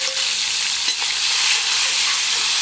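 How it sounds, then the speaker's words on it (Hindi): Green chilli and tomato sizzle loudly in hot oil already holding cumin, a steady close-up frying hiss with faint stirring scrapes throughout, no voices. "इसमें डालते हैं हरी मिर्च और टमाटर"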